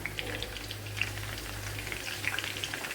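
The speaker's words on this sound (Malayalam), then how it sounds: "ഇനി ഇതിലേക്ക് നമ്മുടെ ചിക്കൻ പീസൊക്കെ ഇറക്കി ഇട്ട് കൊടുക്കാം." Chicken pieces fry in hot coconut oil for a restaurant-style chicken fry, producing a soft continuous sizzle with small crackling pops at moderate, fairly quiet volume over a low hum.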